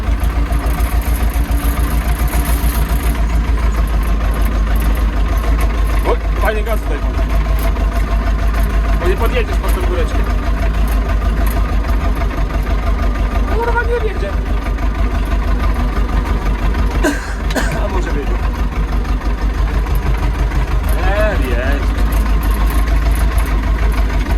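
A tractor engine chugs loudly and steadily nearby with a deep, constant throb, while voices speak over it now and then.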